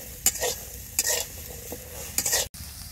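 A utensil stirs ingredients dry-roasting in a pan, making three or four distinct rhythmic scraping strokes with light sizzle between them, close and with no talking.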